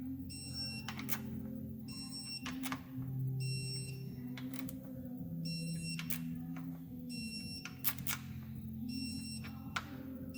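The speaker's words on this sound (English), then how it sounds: "You give it a pull with your hand and it'll beep when you hit that certain degrees." A digital torque wrench beeps at its set angle while engine gears are torqued on an ISX front engine cover, sounding a repeating pattern of short, faint high beeps over a low hum, with occasional clicks.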